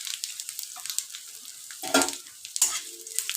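Panch phoron whole spices hitting hot oil give a brief sizzle and crackle, with a couple of sharper pops and spoon clinks over a quiet background.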